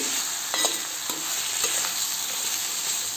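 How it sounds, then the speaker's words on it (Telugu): Bitter gourd slices fry slowly in oil over a low flame, an even, continuous sizzle with a few faint stirring scrapes scattered through it. "ఇలానే లో ఫ్లేమ్లోనే నిదానంగా ఫ్రై చేసుకోవాలి"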